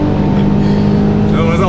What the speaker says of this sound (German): Fährt übel geil das Auto, muss ich ganz ehrlich sagen.